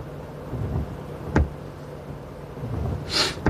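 Rain falls steadily during a storm in Streetsboro, Ohio, under a tornado warning, with a low rumble of thunder and a sharp crack near the middle and a brief hiss near the end.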